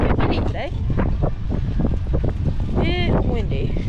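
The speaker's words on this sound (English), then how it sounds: "It's windy." Steady wind blusters across the microphone with continuous low rumbling buffeting. Voices talk over it throughout, and a faint whistling tone rises briefly near the end.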